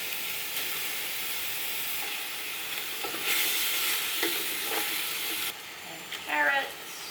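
Turnip and carrots frying in a pan for popiah filling, stirred with steady sizzling and hiss, occasional louder scrapes of the utensil against the pan mid-way and near the end, with faint voices in the background.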